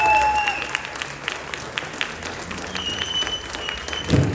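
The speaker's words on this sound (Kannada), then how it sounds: "ಮಕ್ಕಳ ಪ್ರದರ್ಶನ ಚೆನ್ನಾಗಿದ್ರೆ ಒಂದು ಚಪ್ಪಾಳೆಯಿಂದ ಪ್ರೋತ್ಸಾಹಿಸಿ." Audience applause at a children's Yakshagana performance, a steady spread of clapping hands sustained throughout with a bright tonal accompaniment faintly underneath.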